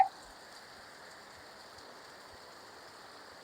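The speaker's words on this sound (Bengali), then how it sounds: "প্রচুর পরিমাণে বৃষ্টি, এই দেখেন" Steady heavy rain pours down in a continuous hiss, close and fairly loud, with no voices over it.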